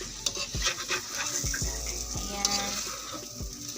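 A utensil scrapes through stir-fried beefloaf in a pan, with a soft sizzle underneath and a few scraping strokes spaced about a second apart, close and moderately loud.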